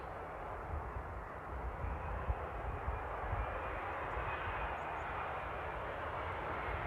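An aircraft arriving at Amsterdam Airport gives off a steady, broad, moderately distant roar of engine noise that holds level throughout, with no talk.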